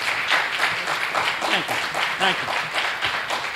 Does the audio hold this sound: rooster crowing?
no